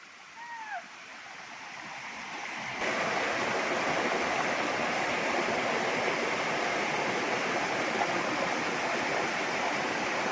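The Tokolangso waterfall at Balipathar in Assam roars with loud, steady rushing water that sets in after a quieter opening with a brief bird call, then stays constant and close.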